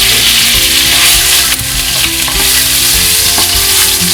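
Fennel seeds and chili flakes sizzle loudly in hot oil for fried rice, a close, steady crackling hiss with occasional stirring scrapes and small pops throughout.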